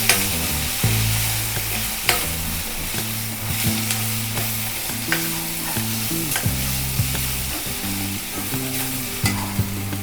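Chutney, Kolhapuri red chilli powder and spices sizzling in a pan for a sprouted moth bean usal, with a spoon stirring and scraping steadily in repeated strokes over a constant loud fry hiss.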